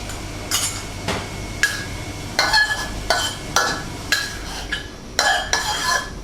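Spatula scraping and tossing spicy Thai catfish curry with krachai in a hot pan, a series of loud rhythmic metallic strokes about once a second over a steady sizzle.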